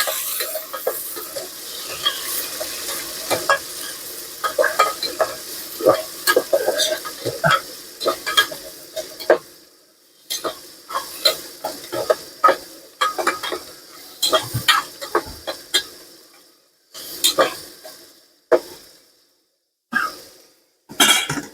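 Tomato masala sizzles and crackles steadily in oil in a hot pan while a spoon scrapes and stirs in bursts, with brief pauses between the stirring strokes.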